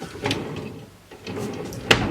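A workbench drawer in an electronics repair shop slides open and shut with rolling rumbles and a sharp knock near the end, close by.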